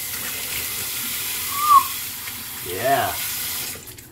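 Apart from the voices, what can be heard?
water running from tap, rinsing after a shave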